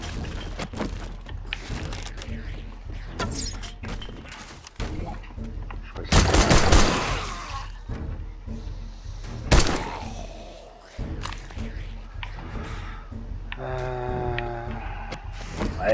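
Machine gun fire in the video game 7 Days To Die: rapid bursts of shots and heavy thumps over a busy background of game sounds, with one loud burst in the middle and another sharp blast soon after.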